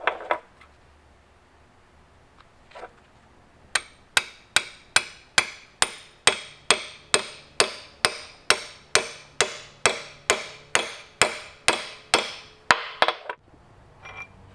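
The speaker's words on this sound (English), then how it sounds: "we want to punch this through to the same size so that rivet will fit through here" Steel punch hammered to make a rivet hole through a cable or synthetic rope fitting on a power puller: about twenty sharp, evenly spaced metallic blows ring out in a steady rhythm, close and loud, after a couple of isolated taps.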